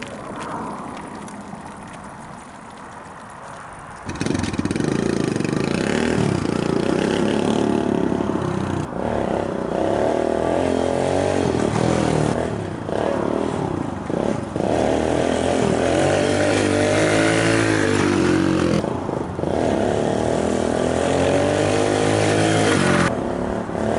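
A small motorcycle engine revving hard and holding a loud, buzzing drone during wheelie riding, close up, with pitch rising and dipping as the throttle changes.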